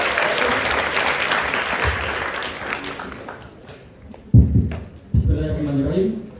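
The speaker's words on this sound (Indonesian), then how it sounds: "Yuk, kasih tepuk tangan buat Yusuf." Audience applause for a student named Yusuf at a campus meeting in Solo, a broad wash of clapping that thins out before sharp closer claps and a voice near the end.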